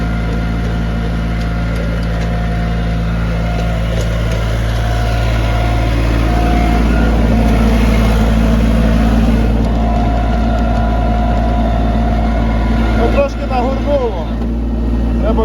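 A loud, steady Japanese tractor engine drones close by while tilling soil, with a low, heavy rumble throughout, and a voice talks over it.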